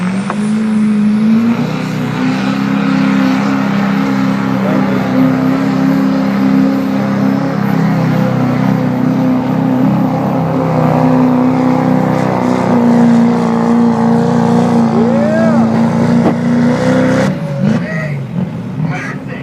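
A deep, steady Duramax diesel truck engine drone holds for most of the span at a truck pull, loud and close, with rumbling low tones and a brief change near the end.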